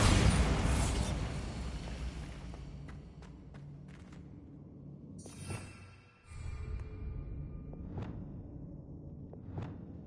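A Bombarda blast spell goes off in Hogwarts Legacy, a loud burst at the start rolling off into rumbling debris, then softer pops, whooshes and creaks, with a second smaller blast midway.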